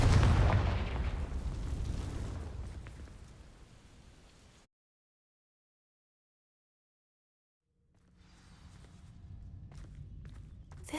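A Confringo fire spell blasts dry vines in the video game Hogwarts Legacy, a loud burst with a deep rumbling tail that fades over several seconds, then silence before faint crackling and movement sounds return.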